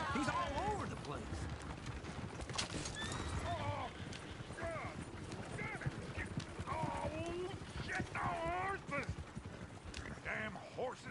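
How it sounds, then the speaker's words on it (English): Several horses whinny and neigh over steady, rapid hoofbeats as they drag a runaway coach in Red Dead Redemption 2. Their calls come in repeated bursts above a rattling clatter, and voices speak now and then. "Damn horses!"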